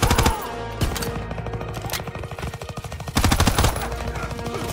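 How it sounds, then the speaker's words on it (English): Automatic weapons fire in a Call of Duty WWII campaign battle: loud, rapid machine-gun bursts crackle close by, separated by brief pauses, with heavy booming shots in the mix. "Man, I shot him in the head."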